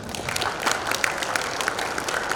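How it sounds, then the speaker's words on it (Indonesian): Audience applause fills a hall at an installation ceremony for a business association chapter in Malang, a steady dense patter of many hands clapping, close and moderately loud. "Tepuk tangan dong."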